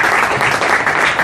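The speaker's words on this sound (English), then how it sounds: "incredible round of applause for yourselves." Employees at a company charity fundraiser gathering burst into a short, loud round of clapping and applause close by.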